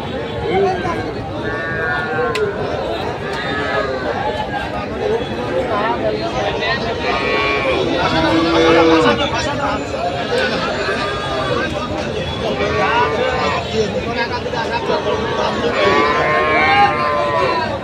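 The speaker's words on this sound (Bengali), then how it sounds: "এটা কি জার্সি গরু নাকি ভাই?" A Jersey cow moos repeatedly amid a busy outdoor crowd at the Kaharol cattle market, with people chattering and talking loudly all around.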